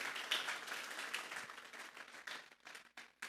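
A church congregation claps together during a Spanish-language sermon, a soft, distant patter of many hands that thins out toward the end.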